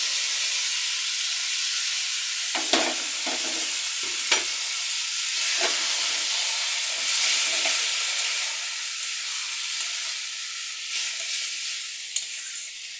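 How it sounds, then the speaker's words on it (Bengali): Boiled mung dal going into a pan of frying fish head, spices and green chillies, giving a steady loud sizzle with occasional stirring scrapes and spatters and no talking. "এবার দিয়ে দিচ্ছি সিদ্ধ করা ডাল।"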